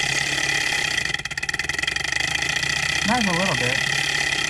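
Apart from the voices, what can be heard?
small Stirling engine running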